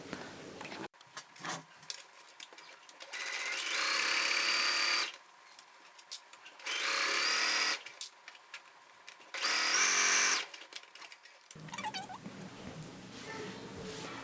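A sewing machine stitches the side seams of a lined bodice in three steady whirring bursts, each a few seconds long, separated by quiet pauses, with a voice talking before and after.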